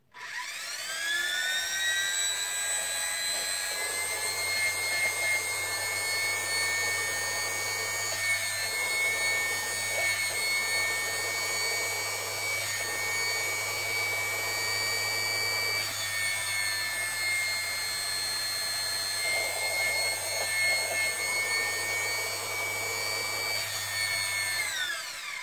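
A repaired vacuum cleaner motor runs on a bench with a loud, steady high-pitched whine and layered tonal hum that rises slightly in pitch as it speeds up, continuous and close throughout.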